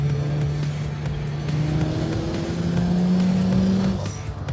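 A car races along a motorway at about 240 km/h, a loud, steady engine drone with shifting pitch and rushing wind and road noise filling the whole stretch.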